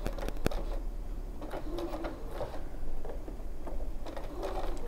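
A sewing machine runs a normal straight stitch with a 1C foot, sewing pockets into a make-up brush holder, a close, quick rhythmic whir with small clicks and slight pulsing.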